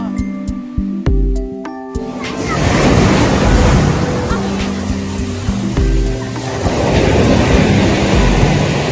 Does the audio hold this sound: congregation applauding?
no